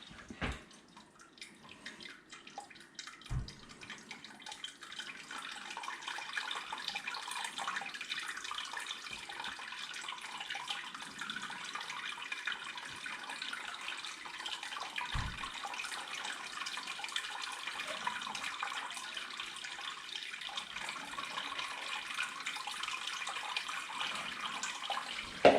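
Tap water runs steadily into a brewing vessel during a brew-in-a-bag all-grain brewday, a constant moderate splashing rush preceded by a few brief clunks.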